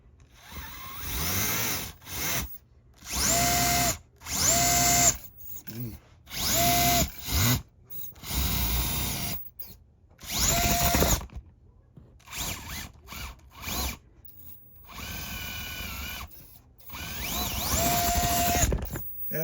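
Furitek NanoModo motor on an SCX30 RC crawler spins its wheels in repeated short whining bursts, rising and falling like a drill, separated by pauses, with talk between bursts.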